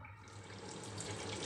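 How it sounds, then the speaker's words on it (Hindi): Hot water pours in a continuous steady rush into a pot of beef and potato curry, close and even for a short stretch with no talking. "उसके बाद गर्म पानी डाल देंगे।"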